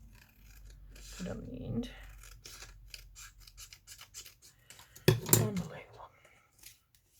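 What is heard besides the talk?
cutting paper in half for a handmade journal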